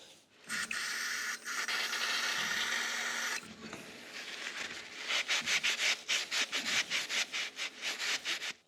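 Scrubbing on the front axle of a classic Land Rover Series 2A to clean it: a long continuous rubbing stroke, a brief pause, then a run of quick rhythmic back-and-forth scrapes, close and fairly loud.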